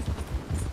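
Horse hooves clip-clopping in Red Dead Redemption 2, a steady, muffled run of low thuds at walking pace under a continuous game ambience.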